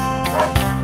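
A human voice imitates a dog barking with quick, playful woof sounds, close and loud.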